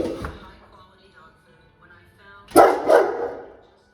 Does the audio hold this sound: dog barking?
yes